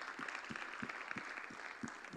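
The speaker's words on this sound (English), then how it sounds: "Let's give them a round of applause." Conference audience applauding the organisers, a steady crowd of handclaps with a rhythmic thump underneath, moderately loud and uninterrupted by talk.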